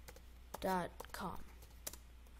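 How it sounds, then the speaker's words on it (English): Sparse key taps while a web address is typed on a Kindle Fire tablet, a few sharp clicks spread out with short voiced sounds in between. "At Google, type in coolrom.com."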